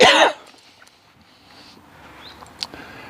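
A man with a summer cold gives a single harsh cough at a lakeside fishing spot, loud and close, followed by quiet outdoor ambience with faint small sounds.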